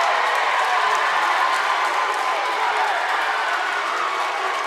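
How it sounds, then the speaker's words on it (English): A volleyball crowd in a district championship gym reacting to a referee's call, a dense, loud, continuous roar of voices and murmuring with a little clapping mixed in. "The crowd doesn't like it"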